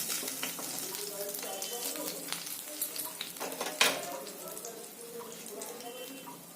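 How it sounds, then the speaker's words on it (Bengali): Pieces of aamudi fish sizzle and crackle in hot oil as they fry for a second time in a home kitchen, a steady close spatter with a sharp pop near the middle. "এবার আমি আবার এইগুলো দিয়ে দেবো, এক এক করে এবং সব ভেজে নেবো পরপর দ্বিতীয়বার করে।"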